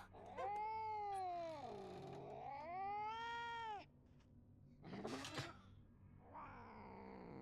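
A strange cat caught in an animal trap meows in the Junji Ito Maniac: An Infinite Gaol horror game, giving two long, wavering meows, then a harsh hissing burst and a quieter, drawn-out cry, close and alone.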